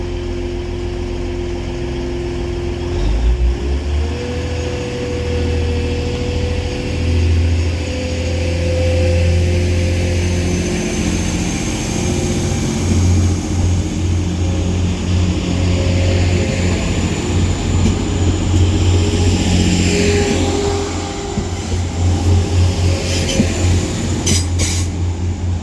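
A TransPennine Express Class 185 diesel multiple unit departs Manchester Oxford Road station for Leeds, with a steady loud engine drone, rising tonal whine, rumbling wheels and brief squeals as it pulls away close by.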